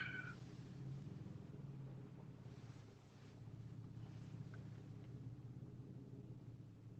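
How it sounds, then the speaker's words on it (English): A low, steady truck engine rumble drones throughout, with a faint whooshing noise over it and no talking. "Must be that truck."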